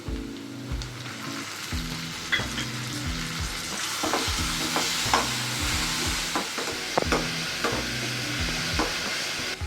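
Onions and tomato with a little salt fry in a pan for a bitter gourd stir fry, giving off a steady sizzle broken by regular scraping strokes of stirring.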